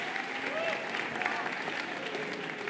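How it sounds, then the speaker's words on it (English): Applause from a seated audience of young men at a Boys State candidates' debate hall, a moderate, steady patter of clapping with faint voices mixed in. "Let's give them a round of applause,"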